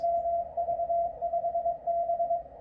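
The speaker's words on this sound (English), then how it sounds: "So you heard ID and Morse code and the different tones." A steady, continuous tone rings out over static and hiss, a shortwave radio beacon of the NCDXF International Beacon Project keying its ID in Morse code, with slight pulsing in level.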